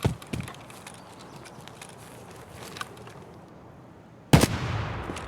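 Gunfire in the video game Escape From Tarkov: a couple of sharp shots near the start, a faint crack midway, then one loud close blast with a ringing tail near the end, no talking.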